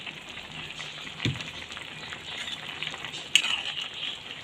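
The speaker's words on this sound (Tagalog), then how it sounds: "Haluin lang natin ang ating niluluto." Chicken in white sauce with oyster sauce and salt is stirred in a pan, a soft bubbling sizzle running steadily with a couple of brief knocks and scrapes of the utensil.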